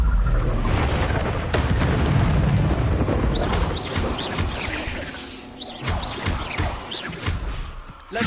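An Incendio fire spell cast in Hogwarts Legacy erupts as a loud, dense burst of crackling, booming fire, with smaller flaring crashes and pops trailing off over the following seconds.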